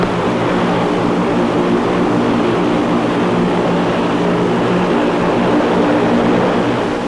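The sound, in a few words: aircraft engines kept running at South Pole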